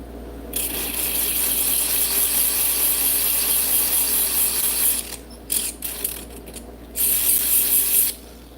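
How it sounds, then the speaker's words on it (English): A high, whirring grind of a power tool sanding the edge of a heavy-walled metal jewelry bezel, running steadily, then cutting out and restarting in short bursts before stopping. "Sanding down to that edge."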